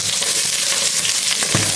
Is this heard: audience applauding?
no